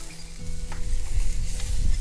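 A porterhouse steak sizzling in a pan just after being flipped, a dense, steady frying hiss with low popping and crackle, close and continuous, no voices.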